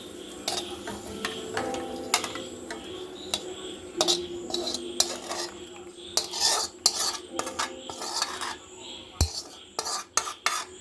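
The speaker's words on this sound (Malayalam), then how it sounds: "എന്നിട്ട് നമുക്ക് അതൊന്ന് നന്നായിട്ടൊന്ന് ഇളക്കി നോക്കാം" A spoon scrapes and clinks against a metal pot while Kerala banana kalan curry is stirred, a steady run of close, bright metallic taps and scrapes over about ten seconds, growing busier toward the end, with no talking.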